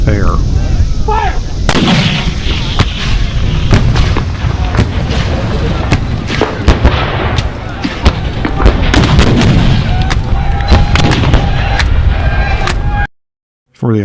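Artillery cannons fire repeatedly at a Civil War battle reenactment on the Perryville battlefield in Kentucky, loud sharp booms and crackling volleys in quick succession, with voices shouting amid the gunfire.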